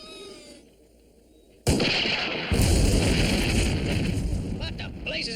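A sudden heavy blast erupts from the demolition of the old Allington Research Center, after a quiet moment, then spreads into a loud, sustained rumble that a second surge deepens and keeps rolling to the end.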